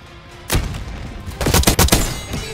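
A frag grenade in Black Ops 6 bursting with a deep boom, followed by a cluster of loud gunshots and blasts, close and dense over a couple of seconds.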